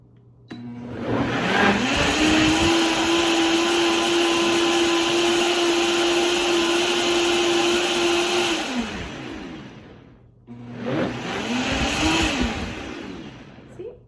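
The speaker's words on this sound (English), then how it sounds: "I'm going to put the ingredients into my bowl, onto my blender, and I'm just going to blend away until it's nice and smooth" A blender whirs a banana, berry and spinach smoothie in one long, loud, steady run of about eight seconds, stops, then starts again in a shorter burst close by.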